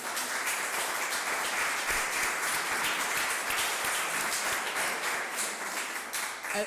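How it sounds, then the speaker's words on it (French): A church congregation applauds steadily and evenly, a dense wash of clapping that carries on without pause throughout. "Je pense qu'on peut les applaudir"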